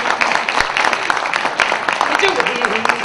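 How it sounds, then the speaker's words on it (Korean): An audience claps at a book launch event, a steady patter of many hands running throughout the moment while a voice talks over it. "우리 박수 주세요."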